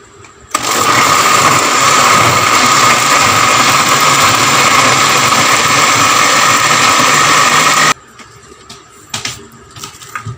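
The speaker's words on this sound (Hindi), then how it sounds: "अब इनको हम अच्छी तरह से ब्लेंड कर लेंगे।" A kitchen blender whirs loudly and steadily as it purees peaches with milk for a milkshake, starting abruptly, running evenly for several seconds, then cutting off, followed by a few faint clinks.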